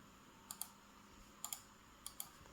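Keystrokes on a computer keyboard at a desk with a USB 3.0 switch, heard as three quick pairs of soft clicks spaced across a quiet background.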